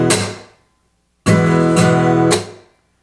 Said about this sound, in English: So we got those first two downstrokes followed by a downstroke with this scratching sound.